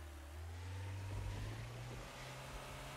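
A car in Trader Life Simulator driving off, with a low engine hum that rises in pitch as it accelerates, steady and fairly quiet, with no other sounds over it.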